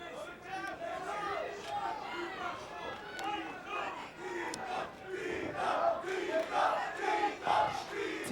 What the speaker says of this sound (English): Tito's the crowd try to cheer him on.